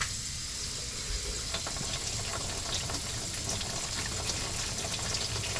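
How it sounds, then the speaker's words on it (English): Tap water running into a kitchen sink drain during a clog check, a steady, even rushing hiss with a faint gurgle underneath, close and constant for several seconds, with no talking. "run a little water, and see if it goes through"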